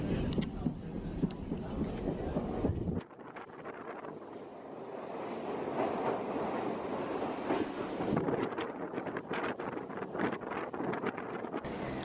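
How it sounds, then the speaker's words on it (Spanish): UT440 passenger train passes on a Chilean railway between Concepción and San Rosendo: a rushing, wind-buffeted roar that drops abruptly after three seconds, then builds again into rumbling, clattering rail noise close by. "Ahí nos cruzamos con el otro tren"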